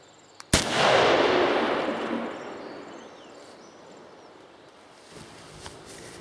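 A single loud rifle shot from a rifle with a T4 Terminator muzzle brake firing a 210 grain Barnes bullet at 3200 feet per second cracks sharply, then its echo rolls away and decays over several seconds outdoors.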